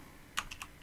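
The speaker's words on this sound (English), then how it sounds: "by typing this" A computer keyboard is typed on nearby, giving four or five quiet, sharp keystrokes in under a second over a faint background hiss.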